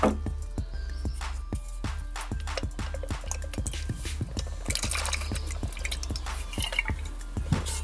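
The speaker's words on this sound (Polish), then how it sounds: "Troszeczkę tylko kapie." Liquid drips from a leaking Pepco thermal mug, a close series of irregular, crisp drops over a faint low hum, with no one speaking.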